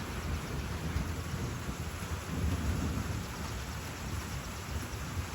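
A thunderstorm on a farm, with steady heavy rain and rolling thunder rumbling continuously through the whole stretch, loud and close, with no voices.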